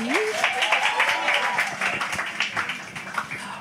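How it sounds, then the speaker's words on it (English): A crowd applauds steadily with dense clapping, mixed with cheering voices and a whistle near the start. "Can we have another round of applause?"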